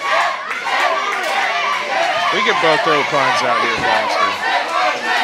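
A wrestling crowd at a CWF Mid-Atlantic show roars for Sterling, a loud, steady wash of cheering and shouting that holds throughout while a commentator talks over it.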